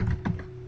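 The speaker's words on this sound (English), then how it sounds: "go ahead and start typing in your idea" Typing on a computer keyboard, a short burst of a few soft key taps close by, with a louder tap at the very end, no talking.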